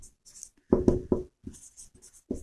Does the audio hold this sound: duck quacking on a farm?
no